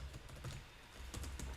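Quick, irregular keystrokes on a computer keyboard during VB.NET programming, faint and close, a steady patter of clicks with a few louder bursts near the end, no voices.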